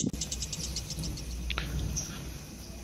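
Lovebird chicks chirping in a breeding setup, with rapid high repeated peeps in a steady series over a constant low background hum, close and moderately loud.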